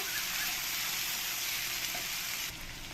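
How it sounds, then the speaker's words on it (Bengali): Onions fried with cumin-coriander paste and ginger-garlic paste sizzle steadily in the pan as the mixture is stirred, a dense, continuous hiss close by that dips slightly near the end, with no talking. "এক চামচ আদা রসুন পেস্ট দিয়ে সব কিছু সঙ্গে মিশিয়ে নেব"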